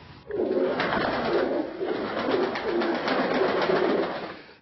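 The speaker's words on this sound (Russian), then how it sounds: "Голубятня Януковича в Межигорье." Pigeons cooing steadily in a dovecote at a countryside estate, a continuous run of soft, rolling, repeated coos at moderate loudness with no talk.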